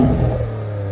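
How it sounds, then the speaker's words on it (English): Maserati's 3-liter Nettuno twin-turbocharged V6 gives a short, loud rev, a strong engine roar that eases off slightly after the initial burst. "This is a 3-liter Nettuno V6 B-turbocharged."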